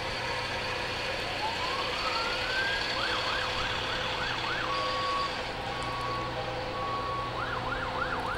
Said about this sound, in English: And now we have the West Plains Fire Department represented.